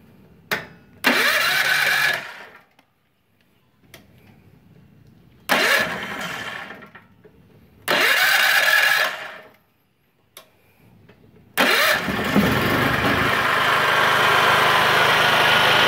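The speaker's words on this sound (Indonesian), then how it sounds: "Kita nyalakan mesinnya." A Multipro generator engine is pulled to start several times, each attempt a loud brief rumble that dies out, until it finally catches and keeps running steadily at close range.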